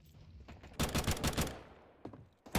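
Rapid pistol gunfire in a Counter-Strike match crackles in quick bursts, a cluster of sharp shots followed by a couple of isolated pops, fairly faint.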